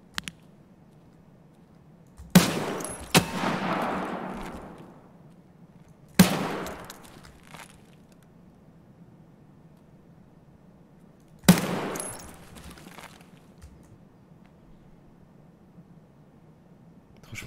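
Gunfire in the game Escape from Tarkov, three separate loud bursts of automatic fire spaced several seconds apart, each cracking sharply and then trailing off in a long echoing decay over a quiet low hum.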